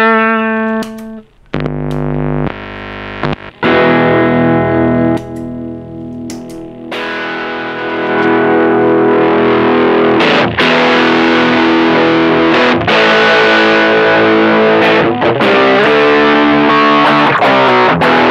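An electric guitar played through a Caline Green Mamba overdrive pedal rings out loud and up close: sustained clean notes first, then gritty, distorted chords and strummed phrases, with no voice over them.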